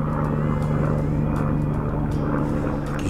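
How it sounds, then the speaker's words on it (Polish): A military helicopter passes overhead at a fishing match on a lake, its steady droning engine hum loud and continuous throughout, with no talk. "Jakiś wojskowy śmigłowiec."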